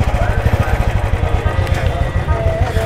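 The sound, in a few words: motorcycle engine starting and idling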